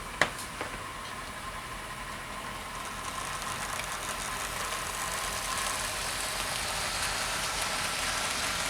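A model railway Class 33 diesel locomotive starting up, its sound unit giving a couple of sharp clicks before a steady synthesized engine drone settles in and gradually swells, with a faint whine running through it.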